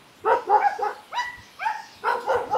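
A dog barks several times in quick bursts, fairly close and loud, with short pauses between barks, near a waterfall in a Kerala village.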